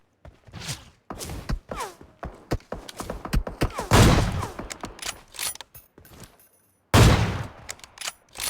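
Assault rifle fire in the mobile battle royale shooter PUBG Mobile, with bursts of shots spread through the stretch and a dense, loud volley near the middle and another near the end, mixed with mechanical handling clicks.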